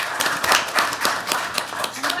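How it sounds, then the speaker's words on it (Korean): Audience clapping at a National Assembly ESG talk concert: a loose crowd of distinct hand claps that rise and fall in quick bursts, fairly close and crisp, with faint voices in the background. "여러분 박수 한번 보내주십시오."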